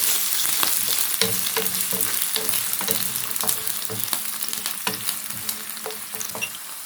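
Onions frying in a pan as a savory crêpe filling is started, loud continuous sizzling with repeated utensil stirring clicks and scrapes, up close and without talk.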